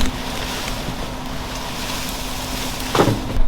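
A Claas Lexion combine harvester runs during a maize harvest, its engine a steady, fairly loud drone with a constant low hum and rushing noise, and a brief surge near the end.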